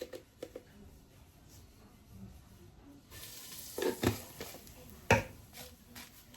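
Thyme and salt fry in hot oil for a stew, a soft sizzle punctuated by a few sharp clicks and scrapes of stirring, louder in the second half.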